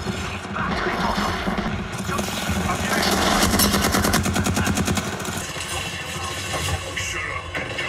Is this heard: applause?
no